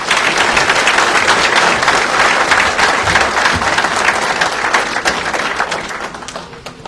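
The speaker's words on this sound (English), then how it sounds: "So please join me in a round of applause for Rear Admiral James McNeal." Audience applause at a military BSOC class graduation ceremony, a dense, steady wash of many hands clapping that stays loud throughout and thins slightly toward the end.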